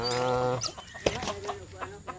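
A fighting rooster gives a short harmonic call followed by a series of quick, close clucks in an uneven rhythm.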